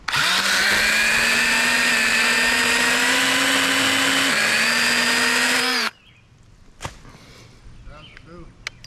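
An Echo 3006 electric pruning saw cuts through a tree during removal, a loud steady whine with a high motor tone for about six seconds that shifts pitch slightly mid-cut, then stops abruptly, leaving faint outdoor sounds.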